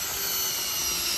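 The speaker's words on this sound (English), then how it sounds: "she takes the drill, and she drills a pilot hole because we're using coated deck screws" A power drill bores a pilot hole for coated deck screws during a DIY bunk bed build, a steady high-pitched whine running continuously and fairly close.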